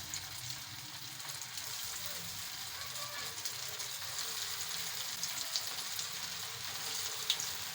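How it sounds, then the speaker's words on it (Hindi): Vegetable pakora balls shallow-fry in hot oil, giving a soft, constant sizzle and faint crackle, with quiet background noise and no talking. "अब इनको हम फ्राई कर लेते हैं।"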